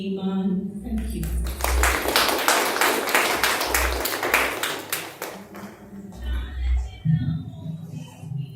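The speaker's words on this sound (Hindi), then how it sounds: "एक बार जोरदार तालियां काव्या जी के लिए" An open mic audience applauds a poet with several seconds of dense, steady clapping, while voices speak before and after it.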